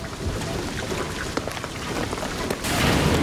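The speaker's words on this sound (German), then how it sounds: "Ich sage, der Regen wird alles überfluten." Heavy jungle rain in Shadow of the Tomb Raider hisses in a dense, continuous wash with scattered drop impacts, growing louder toward the end.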